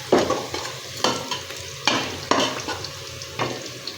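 Chicken brain frying with cumin in a pan, giving a steady sizzle broken by several louder scraping stirs at irregular intervals, close up with no voices.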